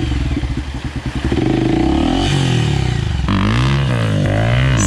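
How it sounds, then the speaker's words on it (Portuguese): A motorcycle engine sputters with rapid pulses, then catches and revs up and down loudly, close by. "Tá pegando motor."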